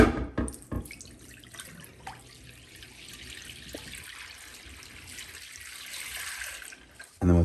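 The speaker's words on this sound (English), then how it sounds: "I want to rinse it out with clean water a few times and I'll be all set." Water runs and splashes into a glass coffee pot as cleaner is poured out and the pot is rinsed at a sink, a steady close rush with a few clunks at the start and end.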